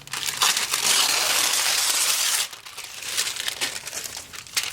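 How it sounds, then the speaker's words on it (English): Tissue paper is crumpled and crinkled by hand for a mixed media collage, a loud, close, continuous rustle that eases slightly halfway through and carries on in softer bursts. "Let's go ahead and add some of this gorgeous tissue paper."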